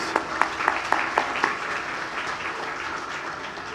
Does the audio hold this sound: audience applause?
yes